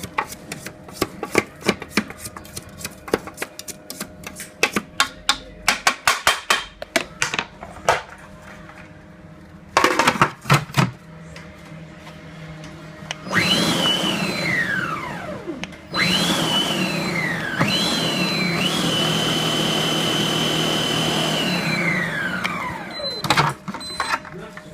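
A Moulinex Companion food processor whirs loudly on its turbo setting, spinning up in long continuous bursts with rising whine after a stretch of intermittent clicks and knocks, while couscous with chicken and merguez is being prepared.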